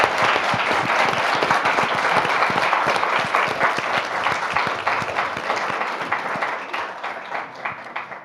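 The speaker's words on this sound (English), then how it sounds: "We'd like to give a hand of applause to our 3 candidates who joined us tonight." Audience applause closes a Maine U.S. Senate candidate debate, a dense, steady wash of many hands clapping near and loud throughout, thinning slightly toward the end.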